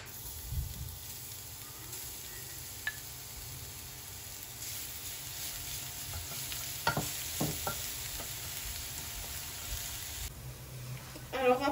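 Garlic frying in heated olive oil in a tagine dish, a faint steady sizzle with occasional stirring clinks and scrapes close by.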